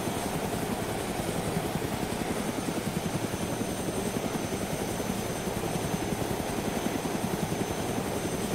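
A helicopter's rotor in the video game DayZ thumps steadily and loudly throughout, a continuous rapid chopping with a high engine whine above it.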